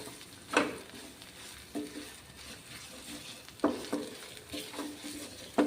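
A spatula stirs onion and roasted coconut paste in a pan, giving a few distinct scraping strokes over a low, steady sizzle, with no voices.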